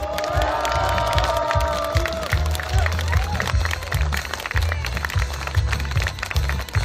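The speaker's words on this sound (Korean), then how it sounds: "다시 한번 동탄의 이준석에게 큰 박수 부탁드리겠습니다" A political rally crowd in Dongtan breaks into loud applause and cheering for candidate Lee Jun-seok, dense clapping mixed with shouts and whoops, with music and amplified sound running underneath throughout.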